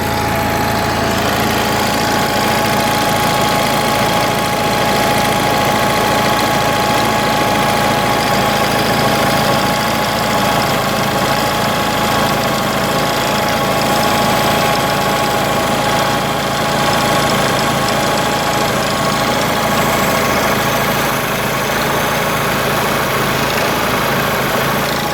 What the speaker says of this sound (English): As you can see or hear, that's a smooth, good running engine right there.